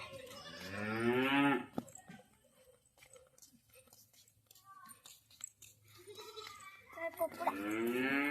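Cattle at a cattle shed, two long, loud moos, one at the start and one at the end, with quiet rustling, faint chewing and soft voices in between.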